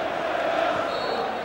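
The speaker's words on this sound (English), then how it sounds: "the half ends with the crowd singing the old ditty, 1-0 to the Arsenal" Arsenal supporters in a stadium crowd during a match against Derby County, chanting the '1-0 to the Arsenal' song at half-time, a dense, steady roar of massed voices with a faint melodic line running through it.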